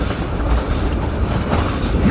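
Georgetown Loop train, roughly 180 tons, rolling along mountain rails toward Devil's Gate Station in Georgetown, Colorado: a steady, close rumble of wheels and cars with a continuous low clatter and no pauses.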